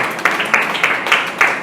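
A church congregation claps hands in rhythm, a steady crowd patter with regular louder accents about every third of a second, close and fairly loud.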